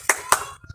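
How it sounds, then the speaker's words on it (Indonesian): Two sharp, close hand claps sound a short beat apart, part of a patterned class clapping routine in an elementary lesson, followed by a couple of faint taps. "yuk kita tepuk PPK terlebih dahulu"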